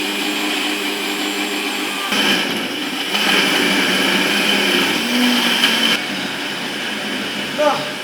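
A blender crushes basil, celery, tomato and ginseng, its loud motor whirring in the middle stretch, framed by a steadier hum before and after, with a voice occasionally audible over it.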